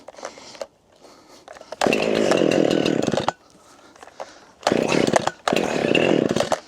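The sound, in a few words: chainsaw running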